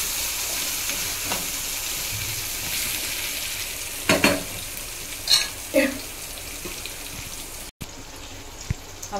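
Chopped tomatoes fry in a pan with a steady sizzle, broken by a few louder scraping bursts of a spoon stirring them around, close and without talking.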